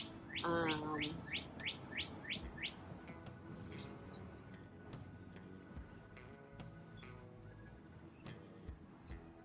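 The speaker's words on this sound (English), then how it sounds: "These birds are really loud." Loud, close bird chirps and whistled calls come in quick repeated bursts, with a busy chorus of other birds chattering in the background.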